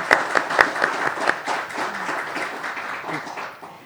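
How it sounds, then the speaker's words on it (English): Audience applause for panelists at a language services event: a few loud, close claps up front, backed by a smaller crowd clapping softly and fading out over a few seconds. "Please, audience, help join me in giving a round of applause for our great panelists."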